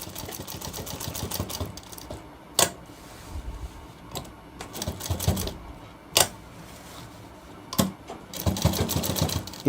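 A sewing machine stitches around the corner of a shirt cuff in short, stop-start bursts of running, separated by clicks and quiet pauses.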